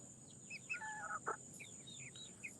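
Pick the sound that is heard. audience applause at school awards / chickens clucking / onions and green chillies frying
chickens clucking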